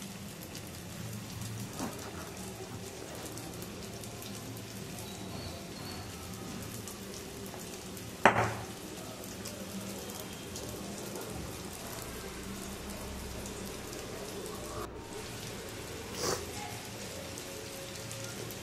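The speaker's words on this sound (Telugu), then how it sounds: "ఇప్పుడు మనం చేసి పెట్టుకున్న కజ్జికాయలను అయితే ఆయిల్లో వేసి డీప్ ఫ్రై చేసుకోవాలి." Kajjikayalu, stuffed sweet dumplings, deep fry in hot oil with a steady, rain-like sizzle and a couple of sharper pops.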